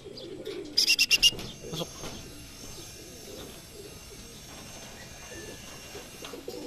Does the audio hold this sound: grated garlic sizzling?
no